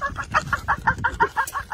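A chicken clucks nearby in a quick, even series of about a dozen short clucks, with nothing else heard.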